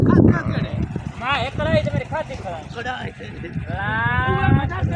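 Goats bleat with wavering, drawn-out calls at close range on a rural Punjab farm, several cries overlapping with someone talking throughout.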